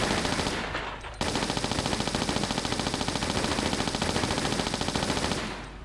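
Uzi fire in the video game Tomb Raider IV, Coastal Ruins level: a loud, sustained rapid rattle of automatic shots with a brief pause near the start, then an unbroken stream to the end.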